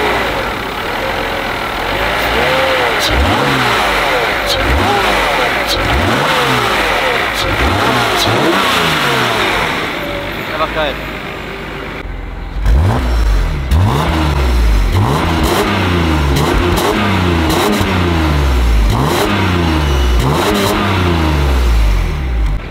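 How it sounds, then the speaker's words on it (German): A 1990s Mercedes C36 AMG six-cylinder runs close by, idling between a long series of sharp rev blips that surge and fall back, with a brief spoken comment. "So, ich mache einmal den Motor an, dann zeige ich dir das einmal hier, den Motorlauf,"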